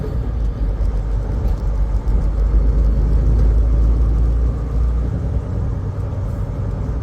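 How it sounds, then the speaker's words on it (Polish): Cars driving past in traffic through a residential neighbourhood in Davenport, Iowa, a steady close engine rumble and tyre whir that swells and holds without a break, with no talking. "Akurat samochody wszędzie jadą"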